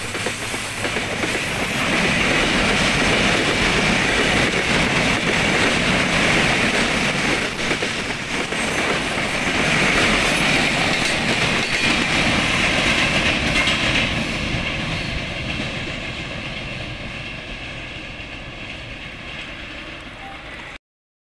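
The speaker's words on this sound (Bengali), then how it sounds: "অত্যন্ত দ্রুত গতিতে ট্রেনটি চলে আসছে" Chitra Express intercity train of Bangladesh Railway rolling loudly through a curve, a steady rumbling roar with clickety-clack of wheels and faint squeal, gradually fading over the last few seconds.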